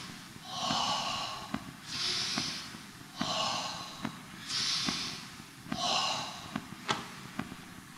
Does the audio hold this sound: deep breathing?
yes